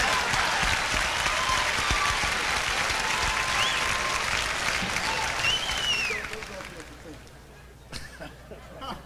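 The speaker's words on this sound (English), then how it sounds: "Now let's give the suit an applause." Dense applause from the audience at a live jazz concert at the 1989 Berkeley Jazz Festival, sustained and loud for about six seconds before fading off, with some crowd murmur beneath.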